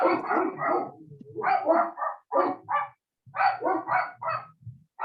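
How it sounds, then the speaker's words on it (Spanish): A dog barks repeatedly and close by, bursts of sharp barks grouped in quick clusters with short pauses between them. "Un perrito ahí."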